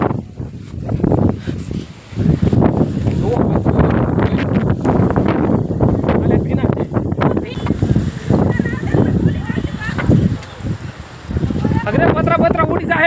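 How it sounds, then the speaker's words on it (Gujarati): A strong storm wind roars outdoors during an unseasonal thunderstorm, a loud, continuous buffeting rumble with gusts that batter the microphone, while voices can be heard in the mix. "કેવું વાવાઝોડું આવ્યું."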